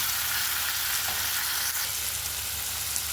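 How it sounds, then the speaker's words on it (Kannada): Ginger garlic paste and tomato fry in a pan with a loud, continuous close sizzle that holds evenly throughout, with no voices. "ಸ್ವಲ್ಪ ಬೆಳ್ಳುಳ್ಳಿ ಪೇಸ್ಟು, ಸ್ವಲ್ಪ ಶುಂಠಿ ಪೇಸ್ಟು ಎರಡನ್ನೂ ಹಾಕ್ಕೊಂಡು ಸ್ವಲ್ಪ ಅದನ್ನು ಕೂಡ ಹಸಿ ವಾಸನೆ ಹೋಗೋವರೆಗೂ ಫ್ರೈ ಮಾಡ್ಕೊಳ್ಳಿ"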